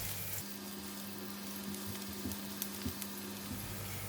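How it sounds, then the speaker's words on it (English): Chopped garlic fries in hot cooking oil in a pan for a chicken and French bean stir fry, giving a steady, close sizzle with a few faint stirring taps and no talking. "You're going to fry the garlic until brown and fragrant."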